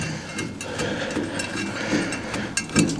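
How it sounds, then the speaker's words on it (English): A ratchet wrench cranks down the bolts on an EA Xtream gearbox hood fitted to a brush cutter. Its quick clicking runs steadily through the whole stretch, close and moderately loud, with no talking. "we'll use the ratchet to crank them down"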